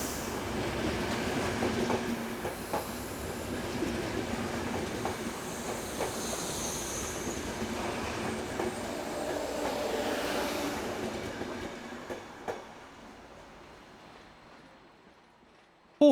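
A GySEV Class 193 electric locomotive hauls an empty passenger train in Hungary, making a steady rolling rumble with faint wheel clatter that gradually fades away near the end.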